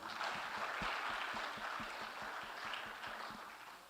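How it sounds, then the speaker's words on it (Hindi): Audience at a political gathering in India claps steadily with a dense, continuous patter of many hands, held at a fairly even level and tapering slightly toward the end, with no talk over it. "मैं चाहूँगा आप लोगों से कि इस बच्ची के सवाल के लिए तालियां बजाइए आप"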